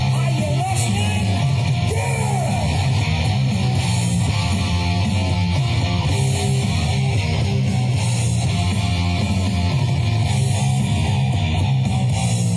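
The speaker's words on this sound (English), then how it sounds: "That's the bass and the drums there." Bass and drums from a studio cover recording play loud, dense and unbroken, a thick low-heavy rock wall with no talking.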